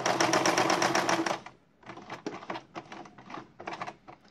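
Sewing machine stitching along the seam of a foam upholstery cover, a loud dense rapid run of needle strokes for over a second, then short bursts of slower stitching with pauses between.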